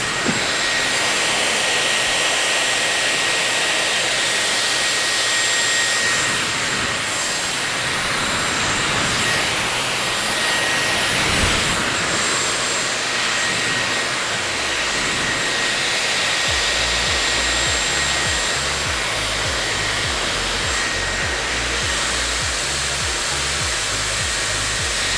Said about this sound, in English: With the Dyson Airwrap curler, it's really nice that you can actually curl your hair while it's still damp.